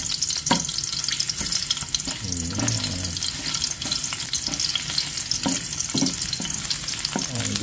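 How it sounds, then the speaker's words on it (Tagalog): Garlic sautéing in hot cooking oil, a continuous close sizzle broken by irregular spatula scrapes and stirring clatter, with no talking. "meron na po tayong mainit na mantika dito. Gisa lang po natin yung ating bawang."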